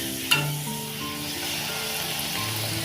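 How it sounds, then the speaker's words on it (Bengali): Luchi flatbreads deep frying in hot oil for a Lakshmi puja offering, a steady close sizzle with one sharp clack near the start and faint tonal hum underneath. "মা এখন দেখো লুচিগুলো ভেজে নিচ্ছে।"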